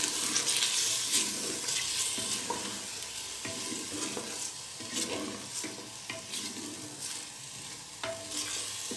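Spices, red chili powder, turmeric and salt sizzle with goat meat in a pot for an Afghani gosht, with a steady loud fry hiss broken by repeated scraping stirs of a spoon, and no talk.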